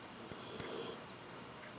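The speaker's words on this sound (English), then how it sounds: "You hear him snoring away?" Quiet snoring from a sleeper in a home, soft breathy rasps rising and falling across a couple of seconds, with a few faint clicks, low and close without any talk.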